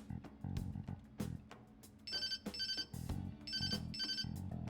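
A phone rings in the video game Persona 5 Royal, a bright repeating electronic ringtone that comes in bursts over the game's background music and sound.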